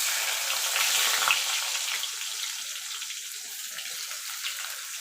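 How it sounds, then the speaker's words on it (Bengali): Bay leaves and whole cumin seeds dropped into hot oil for tempering a chicken curry, giving a steady, close, loud sizzle and crackle that eases slightly over several seconds with no talking. "ফোড়নে দিয়ে দেবো 2টো তেজপাতা, সামান্য একটুখানি গোটা জিরে।"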